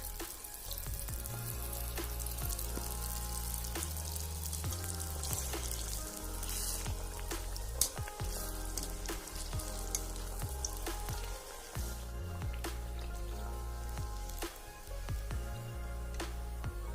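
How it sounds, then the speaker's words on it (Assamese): Tel pitha rice cakes deep-fry in hot oil in a wok, giving off a soft, continuous sizzle with small crackles throughout and no talking. "এতিয়া কেৰাহীত তেল গৰম কৰি লৈ মই পিঠাবিলাক এখন এখনকৈ ভাজিছোঁ"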